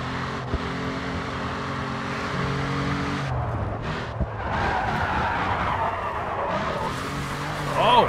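A car in the racing game Grid 2 skids and spins out on grass, a steady engine roar with grinding tire noise running throughout and a brief rising squeal near the end.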